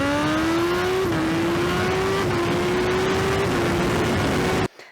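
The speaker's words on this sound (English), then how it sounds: "once I apply some throttle and get some load on the engine" A car engine revs steadily under throttle and load, its pitch climbing in stepped rises like gear changes over several seconds before cutting off abruptly; loud and close, with no talking.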